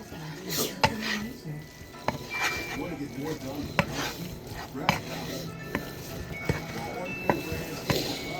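Ground meat browning in a pan on a home stove, a soft sizzle broken by repeated sharp scrapes and clinks of a utensil stirring against the pan.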